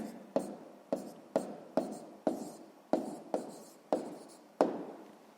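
A pen scratches numbers onto paper by hand, about ten short close strokes in a fairly even rhythm with no one talking.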